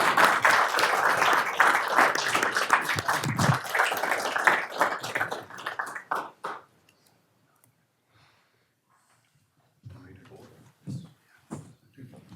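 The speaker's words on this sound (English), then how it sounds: "please applause for these two" Applause for two police officers at a county police board meeting, a burst of clapping that fades out after several seconds, followed by silence and then scattered taps and low murmurs.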